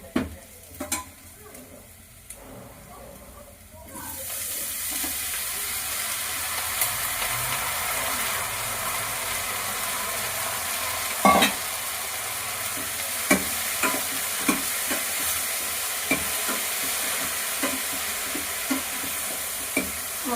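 Onion fries in hot oil in a pan. A loud, steady sizzle starts a few seconds in and carries on, dotted with scrapes and clinks as a spatula stirs it close up. Nobody speaks.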